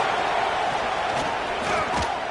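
A stadium crowd in an American football video game roars continuously, a dense, loud, unbroken wall of cheering and yelling.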